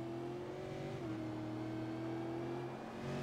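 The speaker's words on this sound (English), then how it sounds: "Listen to the tires squealing." Euro V8 SuperCars race cars at Zolder sliding out of a chicane, a loud steady engine drone with a high tonal whine that could be tire squeal, continuous and close throughout.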